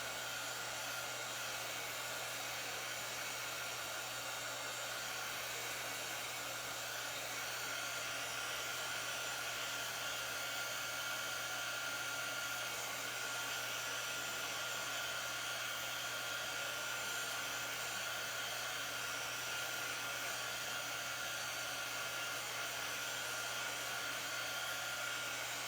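A hair dryer or heat gun runs continuously for about 25 seconds while drying a painted wooden heart, giving a steady close whooshing blow with an even electric hum and no talk.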